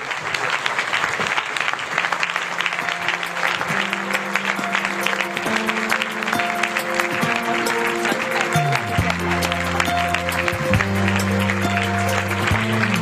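Audience at the opening of the Asia Society Hong Kong Center applauding officiating guests, dense sustained clapping throughout with music tones running underneath.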